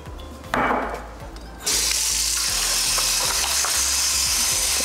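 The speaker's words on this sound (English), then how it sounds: "Pour that vinegar." Vinegar pours over raw chicken in a bowl for a Peruvian dish, first as a short splashing gush, then after a brief lull as a loud, steady stream of liquid running close to the microphone.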